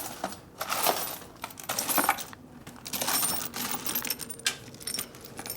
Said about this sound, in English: we're looking for manifold bolts.